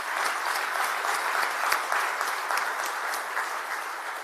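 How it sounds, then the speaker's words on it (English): Audience applause during a city's State of the City address, steady mid-level clapping from a sizable crowd with a few sharper individual claps standing out, sustained evenly with no speech over it. "I want to give them a round of applause."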